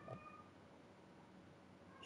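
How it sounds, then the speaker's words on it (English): Pet cat meowing faintly in the background, a short low call near the start over a steady quiet hum. "My cat's yelling in the background."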